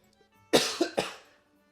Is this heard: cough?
yes